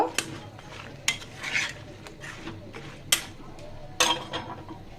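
Metal lid set onto a cooking pot of pointed gourd mash, several sharp clanks and scrapes spaced over a few seconds with low kitchen rustle between.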